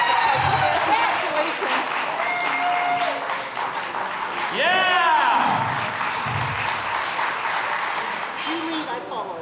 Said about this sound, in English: Give these three ladies a round of applause.